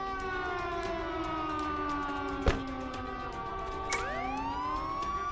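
Police sirens wail in a border police video game, several overlapping rising-and-falling tones sounding loud and steady throughout, with a new siren sweeping up near the end and no talk.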